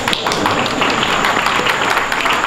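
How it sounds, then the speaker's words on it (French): An audience in the French community of Côte d'Ivoire applauds agency director general Rémi Rioux, a loud, dense roar of clapping from a large crowd, close and sustained without pause. "vous pouvez applaudir le chef"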